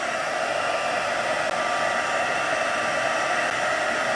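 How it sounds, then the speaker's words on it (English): An embossing heat gun, used on a floral craft project, blows a steady, loud, close airy whoosh with an even hum that holds without pause for the whole stretch, and nobody speaks. "And heat tool."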